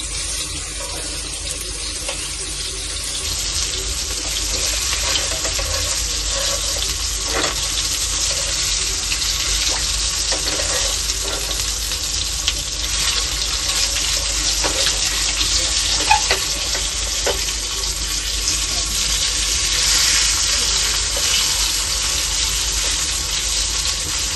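Black pomfret fish fries in a pan of oil, a steady, loud, broadband sizzle that runs unbroken throughout with faint occasional pops and crackles, with no talking.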